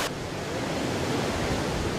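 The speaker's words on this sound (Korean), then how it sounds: "미션의 그 폭포 앞에 서 있습니다." Roar of Iguazu Falls in Argentina, a steady, dense broadband rush of falling water that fills the whole clip at close range with no voices over it.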